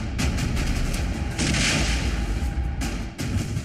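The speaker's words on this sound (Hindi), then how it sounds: "तड़के करीब 3 बजे नाइट क्लब के बाहर 2 जोरदार धमाका हुआ।" Crude bombs thrown from a motorbike explode outside a Chandigarh nightclub around 3 a.m., heard as heavy, roaring booms with sharp onsets amid continuous loud rumbling noise.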